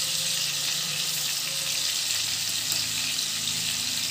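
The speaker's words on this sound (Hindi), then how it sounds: "सारे पीसेस डाल के इसको मैं फ्राई कर लूँगी" Chicken pieces frying in a pan, a dense, steady, loud sizzle that holds evenly for the whole stretch, heard close with no talking.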